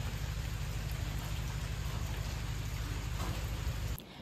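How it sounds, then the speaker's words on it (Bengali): Steady rain falls outside a room during a staycation at Ghatshila, a dense, even hiss of drops on surfaces that carries on loud and unbroken before dropping away abruptly at the end. "বাইরেটাতে বৃষ্টি পড়ছে আর ভীষণ সুন্দর লাগছে"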